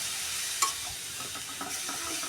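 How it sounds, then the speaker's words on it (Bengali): Carrots fry in ghee over high heat for carrot halwa. A soft, steady sizzle runs throughout, with a sharp scrape of a stirring spoon near the start and light stirring after it. "ঘির মাঝে একটু ভেজে নিলাম গাজরটা"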